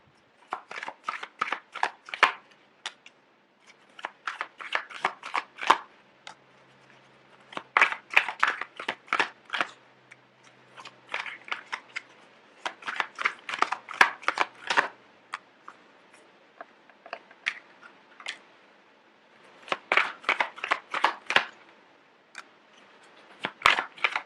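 Tarot cards shuffled by hand in repeated riffling bursts, a steady crisp flutter of card edges that pauses briefly between runs, close and fairly quiet with no talking.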